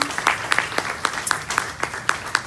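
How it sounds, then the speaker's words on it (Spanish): A standing church congregation claps in a rhythmic, evenly spaced beat, crisp and fairly close, with a few sharper individual claps over the pulse. "Puestos de pie, vamos a darle un aplauso al Señor."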